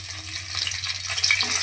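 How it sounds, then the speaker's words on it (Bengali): Nigella seeds and bay leaves dropped into hot oil left from frying potatoes, giving a steady, close hiss of sizzling across the whole moment, with no voices. "ওই তেলের মধ্যে দিয়ে দেবো কালো জিরে, দিয়ে দেবো তেজপাতা।"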